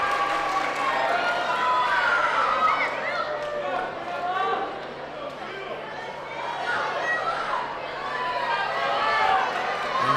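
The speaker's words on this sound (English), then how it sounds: "It's amazing to hear this crowd" A boxing arena crowd in a video game roars in a dense, continuous wash of cheering and chatter that swells and dips, with no clear words standing out.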